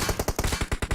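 Rapid automatic gunfire in the mobile game PUBG BGMI hammers into a deployable shield, about a dozen sharp shots in fast even succession, loud and close with no voices.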